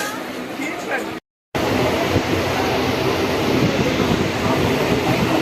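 A train entering Budge Budge station rumbles loudly with a dense, continuous rolling clatter, briefly cut by a gap of silence before the steady roar resumes, with a voice speaking over it.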